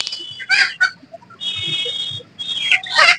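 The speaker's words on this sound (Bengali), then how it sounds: "দেশি মুরগি।" Local desi chickens for sale at the open-air Lalmatia fish market on a rainy morning give close, loud clucks and squawks in quick uneven bursts, with one drawn-out crow-like call.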